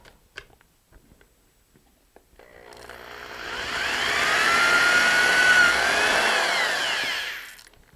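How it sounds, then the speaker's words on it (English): A few faint clicks, then a power drill with a 5/32 bit spins up and grinds steadily through material for several seconds before winding down. "Okay, so the hole is drilled."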